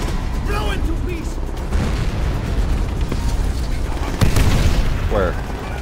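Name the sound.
fuel tank explosion in video game Call of Duty: World at War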